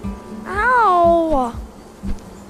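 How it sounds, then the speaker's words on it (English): A bee buzzes in a rising and falling drone at a beehive in the video game Bear Simulator, close and loud for about a second over rhythmic thumping footsteps. "Got stung by bees."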